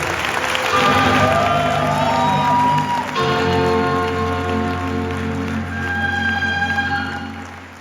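Loud, dense applause from a seated audience at a business leadership event welcomes Om Prakash Yadav. It keeps steady throughout with bright tonal sounds layered over it, then fades slightly at the end.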